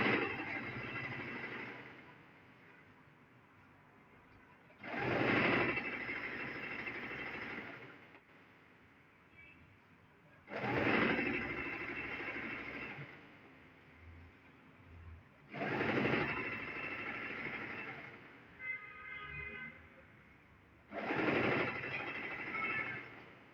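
A sewing machine stitches the crotch seam of wrap pants in four long whirring bursts of several seconds each, separated by quieter pauses, close and steady.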